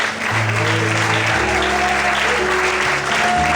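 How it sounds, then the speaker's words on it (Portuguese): A church congregation applauds during an evening service, a steady wash of many hands clapping over sustained music tones, loud and continuous throughout. "Quantos podem aplaudir ao Senhor nessa noite?"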